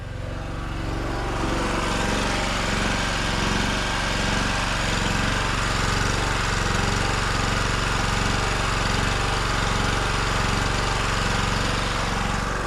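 A small engine powering a milking machine runs loud and close, its revs surging and dipping in uneven jerks under load, a continuous rough mechanical drone with no speech.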